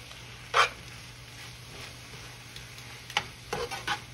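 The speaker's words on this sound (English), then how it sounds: "I put just enough oil to saute the shallots and the garlic out." Shallots and garlic sauté in a little oil in a skillet with spinach, giving a faint, steady sizzle with a few sharp metal spatula scrapes against the pan.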